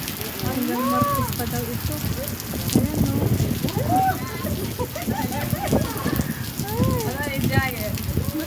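Heavy rain pours steadily in Saudi Arabia, a constant dense hiss of drops on surfaces, with someone talking over it and scattered bird chirps.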